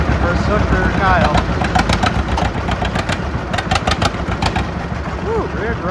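A tractor engine works hard during a deadweight pull, its steady mid-pitched roar rising and wavering as the unweighted tractor rears up, with voices calling over it.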